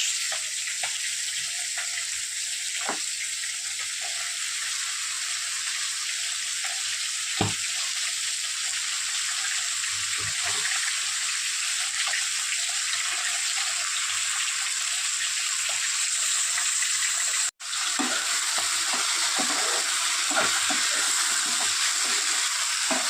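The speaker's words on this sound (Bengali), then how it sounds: "মাছগুলো দিয়ে খুব ভালো করে মিক্স করে নেবো" Lote fish being stirred into spice masala, a constant bright frying sizzle with occasional soft knocks and scrapes of a spatula.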